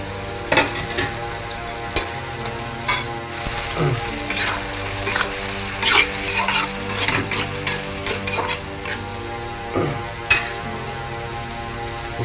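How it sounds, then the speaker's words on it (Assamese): Cut potatoes tumbled into a pan with pork cooked without oil, sizzling steadily while a utensil stirs and scrapes in repeated bursts, close and clear with no talk. "এতিয়া মই ইয়াক কাটি থৈ দিয়া আলুখিনি ঢালি দিয়া হৈছে ইয়াত"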